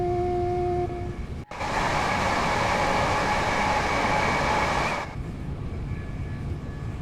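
A heavy London commuter train in the Train Sim World 2 game thunders past at speed, a loud steady rushing roar that starts abruptly after a brief tone and cuts off about four seconds later.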